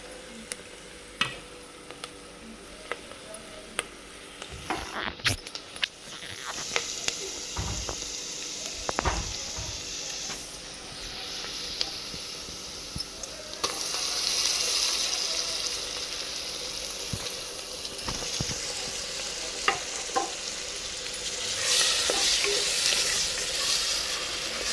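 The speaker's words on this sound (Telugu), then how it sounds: "మసాలా ఇంకా ఆనియన్ ఇంత వేగితే చాలండి" Masala and onion frying in a pan for a Rayalasema-style black-eyed pea gravy, a steady sizzle running throughout with occasional sharper clicks and scrapes, close and moderately loud, with no talking.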